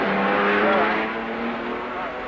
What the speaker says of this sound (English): the Ferraris rush past into the lead